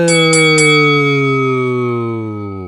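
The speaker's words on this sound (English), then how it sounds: "Ring that bell." A bell is struck three times in quick succession, then a loud, clear tone rings on and slowly fades, with no voices over it.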